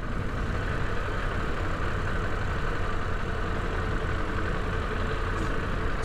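Triumph Tiger 1200 motorcycle engine idling steadily, a continuous low rumble with even loudness throughout, close by and with no talking over it.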